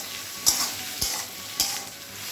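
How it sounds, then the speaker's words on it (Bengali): Chopped onions frying in a pan with a steady close sizzle, broken by three evenly spaced scraping stirs of a spatula. "পেঁয়াজগুলো ভাজার জন্য দিয়েছি"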